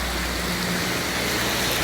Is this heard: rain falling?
yes